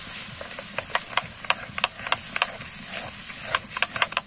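Nut and onion paste poured into a hot pan of ginger and garlic for a chicken roast, giving a steady hiss with many sharp crackling pops scattered throughout, close and fairly loud, with no talking.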